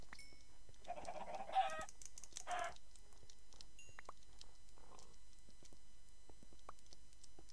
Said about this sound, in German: Noch ein paar Hühner.